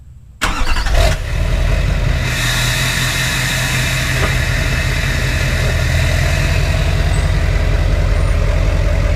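Chevy Duramax dually diesel truck starting and pulling forward onto cardboard in a driveway, a sudden loud engine start settling into a steady, close rumbling idle and drive with no talking.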